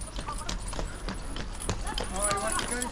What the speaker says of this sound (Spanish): Hay que tener cuidado que viene un caballo.